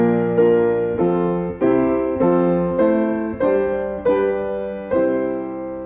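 The Christmas carol While Shepherds Watch Their Flocks by Night is played as a melody, about eight clear, evenly spaced chord-backed notes, loud and close with no voices.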